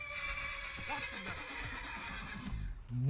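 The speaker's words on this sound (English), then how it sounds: "What is this horse doing?" A horse in modded Skyrim Special Edition whinnies with a wavering, drawn-out neigh, and a few hoof clops follow close by.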